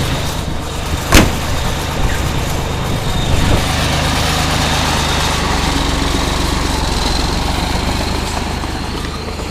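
T-150 tracked tractor engine droning steadily while ploughing a garlic plot, a loud continuous rumble with a sharp knock early on, no voices.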